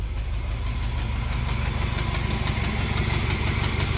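A Jeep engine idles steadily with a low, even rumble and a faint rhythmic pulse, continuous and close throughout.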